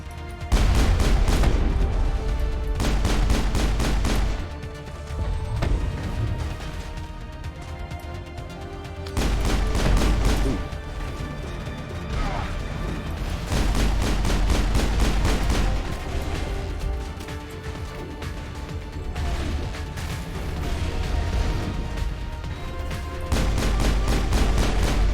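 Heavy sniper rifle gunfire from the video game Mass Effect: loud, booming shots in repeated bursts with echoing tails, continuous across the clip, no speech over it.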